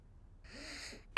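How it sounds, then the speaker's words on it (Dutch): A cartoon piglet gives one sharp, close cough during a pretend doctor's check-up, just after a brief soft voiced sound. "even diep ademhalen en hoesten"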